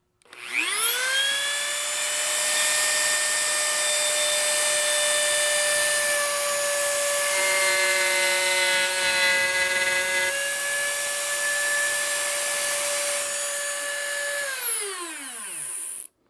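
A Dremel rotary tool cuts 1/8 inch grooves for holly and mahogany banding in wood, a high steady whine that spins up, holds loud and unbroken for about fourteen seconds, dips briefly midway, then winds down.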